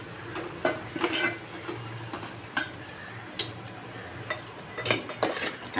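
Chicken curry stirred in a pan with coriander just added: a spoon clinks and scrapes against the metal in scattered irregular taps, fairly faint over a low steady background hum, with no talking.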